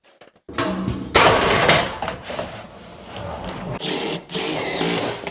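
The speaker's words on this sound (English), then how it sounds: "DeWalt makes these shears, and you can put them in your drill or your drill driver." DeWalt shears mounted on a drill cut a metal backsplash sheet in bursts of harsh, close mechanical grinding and rattling, separated by quieter pauses.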